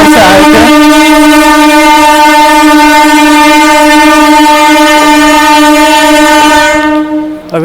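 The 12020 Ranchi Howrah Shatabdi Express pulls in at a platform, its horn blaring loud and close in one long sustained blast that carries over the rolling train before cutting off.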